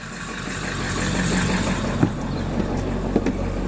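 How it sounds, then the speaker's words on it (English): A converted school bus engine idles steadily with a low rumble and deep exhaust drone, a couple of brief knocks or clunks breaking through near the end. "Now we know what the exhaust tone sounds like on the bus"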